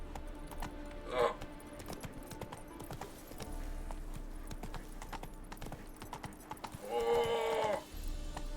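Roach the horse walks in The Witcher 3, hooves clip-clopping faintly and steadily at a distance, with a couple of brief louder snorts or whinnies cutting through the quiet background.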